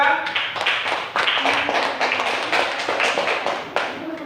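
Classroom students clapping for a presenting group after a lesson, a steady patter of hand claps from a modest group close by, fairly loud with slight surges.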